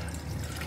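Water poured into a glass while preparing a sattu drink, a steady close splashing and trickling that runs without a break through the short moment, with no voices.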